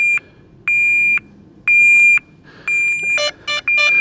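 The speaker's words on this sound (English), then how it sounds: "the beep has been improved as well" Several beeps from a DJI Neo drone sound in a regular pattern, three long steady electronic tones followed by a quicker series of shorter, rising chirps, loud and close with no talking.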